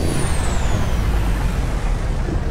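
A truck's parking brake is set with a sharp, loud hiss of released air, a brief rushing burst over the engine's low idle.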